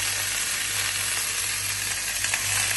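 Turmeric-seasoned side dish for dal frying in a pan: a steady, close, dense sizzle and crackle that holds even throughout, with no voices.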